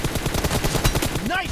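Rapid gunfire from a mobile shooter game played on an iPhone X in a 1v1 match, a steady run of loud shots with a rising synthetic tone near the end, with faint talk underneath.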